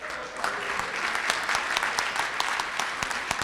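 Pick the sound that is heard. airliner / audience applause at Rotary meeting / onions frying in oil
audience applause at Rotary meeting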